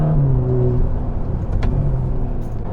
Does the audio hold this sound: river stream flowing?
no